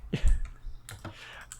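Quick typing on a computer keyboard, a short burst of close, distinct key clicks with no talking.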